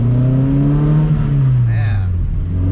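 A 1977 Dodge Mitsubishi Colt's old-school engine drones steadily and close up while being driven, its pitch lifting slightly and then easing back as the car accelerates.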